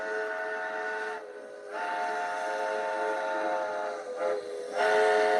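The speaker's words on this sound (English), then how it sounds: "I hear that whistle blowing" A train whistle blows in long, steady harmonic blasts, with brief breaks between them, loud and clear and with no talk over it.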